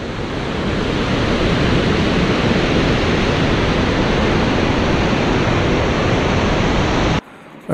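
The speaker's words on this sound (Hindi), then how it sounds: "बहुत खूबसूरत वाटरफॉल है जी। और ये स्कर्दू की तरफ से आता, ठाठे मारता दरियाए सिंध।" Waterfall beside the roaring Indus River near Skardu, a loud, steady, unbroken rush of falling and churning water close by that cuts off abruptly just before the end.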